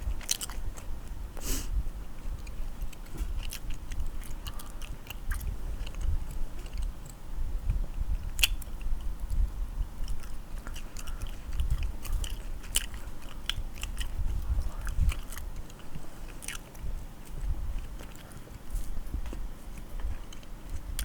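Chewing gum very close to a microphone gives wet, rhythmic smacking and clicking bites that repeat continuously over a faint low background rumble.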